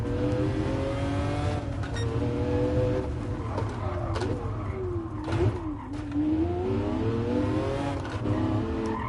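Race car engine in GT Sport, shifting gears through an H shifter, with a steady high engine drone whose pitch climbs and drops across several shifts, tire noise mixed in, continuous and loud throughout.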